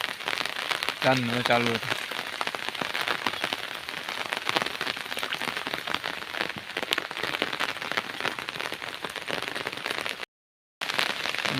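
Heavy rain pours down steadily on a village road, a loud dense hiss filling the scene, with a brief voice early on and a short dropout near the end.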